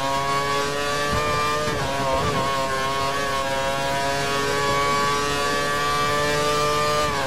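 Formula 1 car engine at full power in F1 2013 at Hockenheim, a steady loud high-revving whine with layered harmonics, briefly dipping and climbing again, continuous and close throughout.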